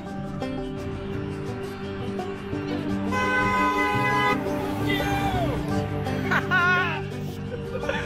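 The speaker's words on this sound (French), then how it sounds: "Et beaucoup klaxonnent effectivement" Car horns toot intermittently over a busy outdoor scene with a low drone, voices and some laughter mixed in.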